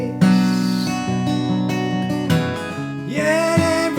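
Acoustic guitar strums the D-based chord changes of a song alone, ringing sustained chords shifting every second or so with a brighter change near the end.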